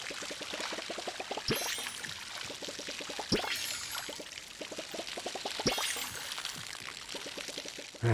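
In the video game Palia, a container is filled with water: a steady pouring stream runs for several seconds, broken by repeated rapid clicking bursts and a few sharp louder splashes.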